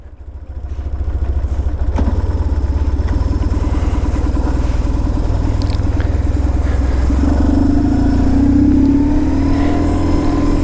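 A 2004 BMW R1150GS Adventure motorcycle engine cranks, catches and settles into a loud, close, steady thumping idle, with the note rising slightly near the end.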